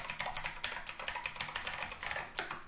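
Rapid, steady typing on a computer keyboard while writing code, with close, continuous key clicks and a few brief pauses, no talking.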